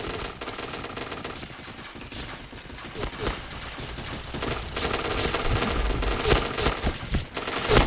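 Rapid automatic gunfire in a shooter video game, dense continuous bursts with overlapping shots, loud and close throughout, with a voice talking underneath.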